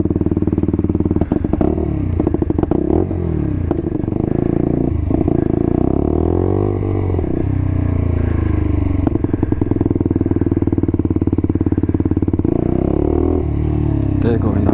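A Lexmoto 125 motorcycle ridden with the exhaust baffle removed, a loud, close, raspy engine drone that rises and falls with throttle changes throughout, with talk over it.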